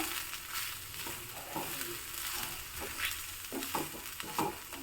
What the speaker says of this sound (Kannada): ಈಗೊಮ್ಮೆ ಚೆನ್ನಾಗಿ ಎಲ್ಲವನ್ನು ಮಿಕ್ಸ್ ಮಾಡ್ಕೋಬೇಕು